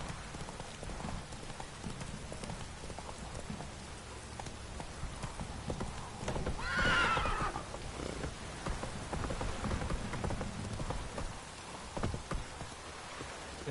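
Hooves clip-clop at a quick, steady pace as Geralt's horse Roach runs in The Witcher 3, with a soft rain-like wash beneath and a brief swell of ambient sound midway.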